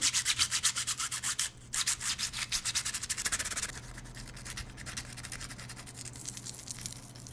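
Garnet dragged back and forth across an iPhone 6 glass screen, a close, dry rasping scrape in quick repeated strokes that gradually soften and blur into a faint continuous rub.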